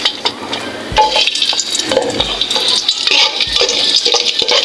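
Garlic sautéing in a pan, loud close sizzle with repeated metallic scraping and clanks of a utensil against the pan, no talking.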